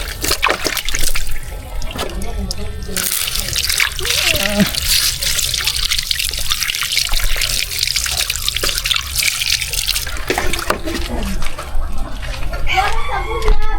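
A rooster crows several times nearby, its calls rising over running, trickling water. People talk in Filipino across much of the stretch.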